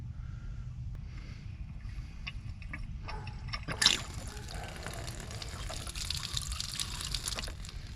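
A household faucet is opened during a DIY plumbing repair, and water hisses and splashes steadily from the tap. The flow sounds fairly close and continuous, with a brief sharp knock partway through.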